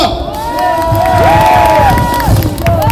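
A crowd claps and cheers continuously, with shouts and whoops rising over the steady applause, loud and close.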